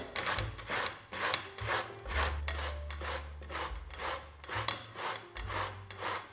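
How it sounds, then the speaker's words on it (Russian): Zucchini is rubbed across a coarse grater in repeated rasping strokes, about ten even back-and-forth scrapes, close and clear with no talk. "Натираем кабачки на крупной терке."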